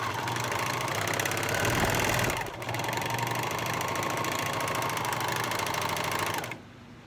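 A Janome air-threading serger runs an overlock stitch along a folded fabric seam with a fast, steady mechanical whir and rhythmic needle chatter, briefly dipping once before stopping near the end, heard close and alone.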